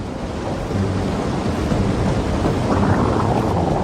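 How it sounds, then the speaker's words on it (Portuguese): A waterfall pours heavily, hundreds of litres a second, as a dense, steady roar of crashing water that fills the whole clip without a break. "São centenas de litros de água caindo da cachoeira por segundo."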